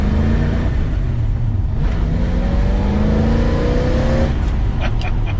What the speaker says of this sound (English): It does just pick up its heels and go, these V8s.